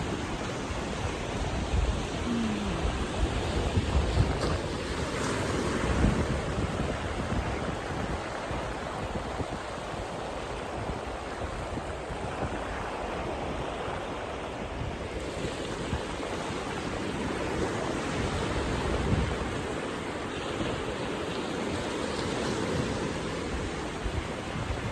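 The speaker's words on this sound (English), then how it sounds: "just be here together listening to the waves" Steady ocean surf washes onto a beach, a continuous roar of breaking waves with gentle swells, no voices.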